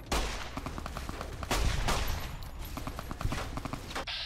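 Gunfire in the video game Fallout New Vegas during a boss fight with the Van Graff gang: a sharp shot, then bursts of rapid shots and more heavy shots spread across the moment, fairly loud.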